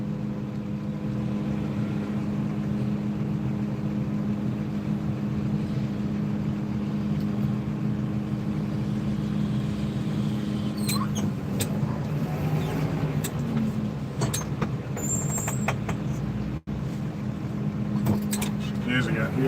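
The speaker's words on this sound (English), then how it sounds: "A lot of traffic going around in circles for some reason today." Road traffic circling through a main street drones past as a steady, fairly close engine hum with a low tonal whine, growing busier and more uneven toward the end as more vehicles go by, while someone speaks intermittently.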